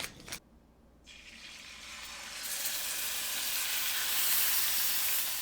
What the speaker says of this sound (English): Turn your pan on high heat, a little bit of oil, and let's sear this off.